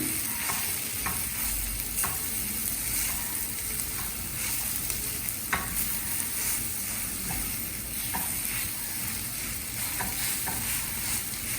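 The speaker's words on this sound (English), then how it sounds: "And keep the flame on slow and stir." Lilva kachori filling is stirred in a pan over a slow flame, giving a continuous low sizzle with soft, scattered scrapes of the spoon throughout, close and fairly quiet.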